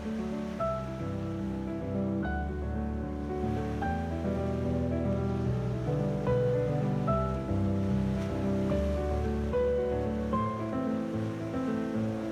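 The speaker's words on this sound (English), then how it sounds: "only the rhythm of waves and whispers of wind" Ocean waves wash continuously onto the shore of Diamond Island, Tasmania, in a steady, soft roar, with no voices present.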